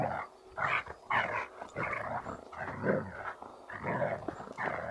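Dogs playing together indoors, a run of rough growls, yips and snuffling barks close by that keep going in bursts without a pause.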